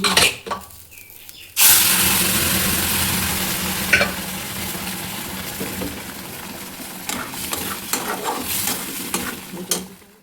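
Soybean chunks fry in a hot pan. After a short quiet start, a loud sizzle swells in, overlaid by occasional spatula knocks and scraping stirs close by.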